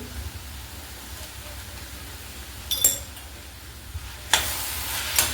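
Jaggery and dry fruit powder filling for talni modak being stirred in a pan over a low gas flame, with a soft steady hiss and a few sharper scraping clinks of the spoon near the end.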